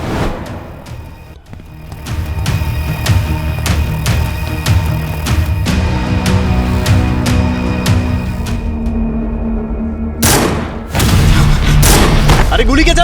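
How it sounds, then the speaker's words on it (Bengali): Gunfire in a tense standoff: a rapid series of sharp, loud shots crack in quick succession, then a heavier burst near the end, mixed with background music and noise. "আরে গুলি কে চালাচ্ছে?"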